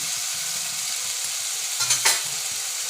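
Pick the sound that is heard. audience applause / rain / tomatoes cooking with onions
tomatoes cooking with onions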